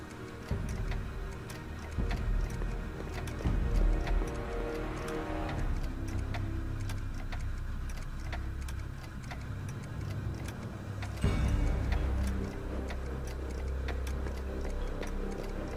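A clock in the Back to the Future adventure game ticks in a steady, even rhythm, crisp repeated clicks over a low background hum and soft ambient game sounds, with no talking.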